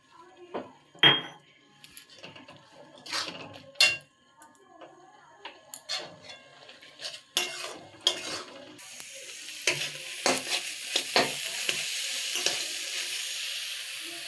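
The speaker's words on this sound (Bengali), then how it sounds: "চিনিটা দিয়ে ভালো মতো মিশিয়ে এবার দিয়ে দেবো কাজু কিশমিশ।" Carrot halwa with sugar, cashews and raisins stirred in a pan, a steady run of sharp spoon scrapes and clinks against metal, over a hissing sizzle that grows louder and more constant in the second half.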